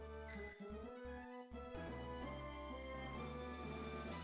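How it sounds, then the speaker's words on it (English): A school bell signals the end of a class period in the Pokemon Pisces video game, ringing with bright sustained tones over steady game music, no voices. "That bell marks the end of this period class."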